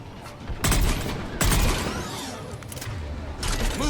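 Mounted gun fire in the Mass Effect 3 video game: loud, heavy bursts of shots with booming impacts, two strong volleys followed by a third burst, set against a busy battlefield din.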